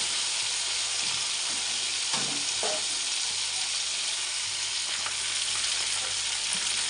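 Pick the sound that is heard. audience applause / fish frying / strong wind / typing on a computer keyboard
fish frying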